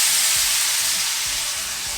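Water poured into a hot pan of frying gyoza, just after a splash of sake, sets off a loud, steady sizzle and hiss of steam that fills the whole moment, with no voices.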